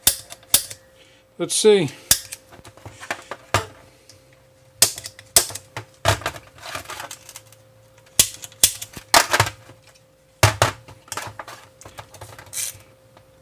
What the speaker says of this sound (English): take the center punch here and just pop all these screws